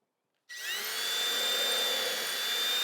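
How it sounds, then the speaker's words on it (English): A power drill starts abruptly and runs steadily at high speed for a couple of seconds, pre-drilling a hole in wood, a continuous whine with no talking. "I want to pre-drill the first hole"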